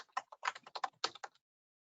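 Quick bursts of keystrokes on a computer keyboard as a name is typed in, close and clear, uneven clusters of taps over about a second and a half, then silence.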